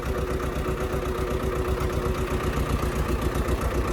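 A tractor engine idles steadily at low revs, with a close, even, rhythmic mechanical throb and no voices.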